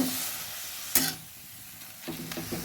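Beetroot with salt and turmeric sizzles softly in a pan, with a steady frying hiss broken by a couple of scraping stirs.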